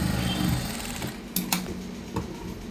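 A sewing machine stitches a dress at a slow pace, running in a close continuous hum broken by a few sharp clicks.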